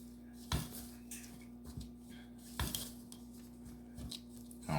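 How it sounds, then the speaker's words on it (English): A utensil stirs milk into a glaze for a coconut-flavoured Louisiana crunch cake in a bowl, giving several distinct, close clinks and taps against the bowl over a steady background hum, with no talking. "We're gonna put the milk. Put a little of that in there. Start to mix."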